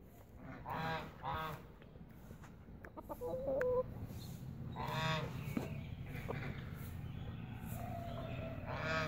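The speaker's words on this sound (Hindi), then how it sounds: "मुर्गी भी फ्रेंड्स बाहर ही आ गई है, कल से कुड़क बैठी हुई है" A broody hen clucks outdoors in a village yard, sitting on the soil. Several short, moderately close clucks and calls repeat over a steady background of rural noise.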